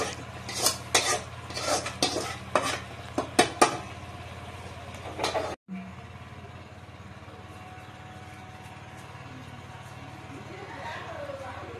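Raisins, cashews and crushed cardamom are tempered in a pan for tomato jam, with a series of close scraping stirs and clinks followed by a steady low sizzle; voices talk over the cooking.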